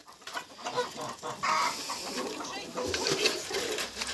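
Farmyard chickens cluck and squawk close by in a busy, continuous chorus, with someone talking over them at times.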